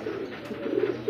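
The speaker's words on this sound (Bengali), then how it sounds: "সিঙ্গেল একটা অনেক সুন্দর একটা কবুতর" A pigeon kept for sale coos softly close by, a low throaty rolling call that swells and repeats a few times over a faint background hiss.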